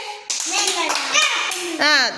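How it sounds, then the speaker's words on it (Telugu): Children in a classroom clap briefly in a few short bursts, mixed with kids' voices speaking and chanting over the applause. "వెరీ గుడ్, క్లాప్స్ కొట్టండి."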